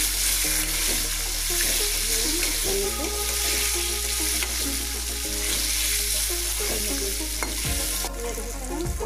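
Cubes of paneer fry in a pan, giving a continuous loud sizzle with bubbling crackle and a few scraping stirs against the metal.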